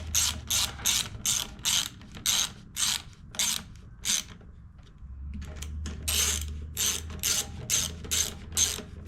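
Ratchet wrench clicking in quick repeated bursts on a Honda HRX2173VKA lawn mower during fuel system service, close and crisp, with a brief pause midway before the rapid clicking resumes.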